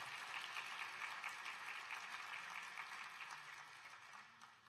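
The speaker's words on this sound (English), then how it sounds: "Please join me in a round of applause to thank them for their tireless service to the residents of Little Rock." A round of applause at a city address event in Little Rock, a steady dense clapping from a large audience heard at a distance, fairly faint and continuous, with no talking.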